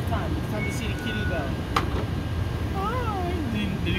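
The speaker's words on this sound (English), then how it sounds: "Look at the kitty." A kitten meows in a home living room, a few short rising-and-falling calls around the middle of the clip, heard close but under steady background noise and household sounds.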